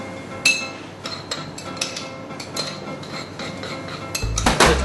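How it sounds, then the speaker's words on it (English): Utensil stirring a fish marinade of salt and sugar in a bowl, a series of close clinks and scrapes against the dish, ending in a louder clattering burst. "and give that a stir."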